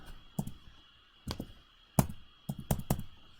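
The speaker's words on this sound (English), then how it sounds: "I'll press U on the keyboard." Several sharp key presses on a computer keyboard, close by, in irregular clusters with short pauses between, no voices.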